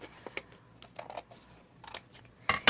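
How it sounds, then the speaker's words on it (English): Scissors snipping off the back flap of a paper journal: a quiet series of sharp, crisp clicks and cuts spaced irregularly, ending in a louder, brief rasping snip. "You're going to cut the back flap off just so you don't have that extra bulk."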